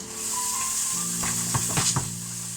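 Onions and garlic fry in a pan, a steady close sizzle joined by a few quick scraping stirs near the end, with no talking.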